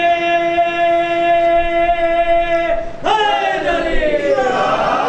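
At a majlis, a single voice holds a long, tonal call, then a large crowd erupts in a loud unified shout of the Haidari slogan, the massed voices ringing out and slowly fading.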